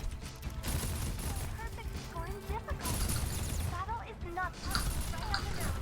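Rapid bursts of gunfire crackle through a shooter video game match, fired in quick clusters, while someone talks over the action almost throughout.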